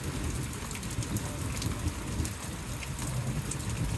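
Steady rain pours on surfaces during a thunderstorm in Alabama, a continuous hiss with scattered drop impacts and a faint low rumble underneath, heard alone without speech.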